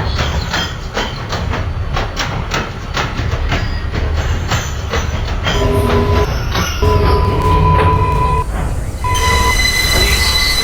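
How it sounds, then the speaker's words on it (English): A Bronx-bound 4 subway train rumbles loudly along the rails at 161st Street–Yankee Stadium in New York, with rhythmic clacking, then high metallic wheel squeals and tonal whines rise as it runs. "This is a Bronx-bound 4 train."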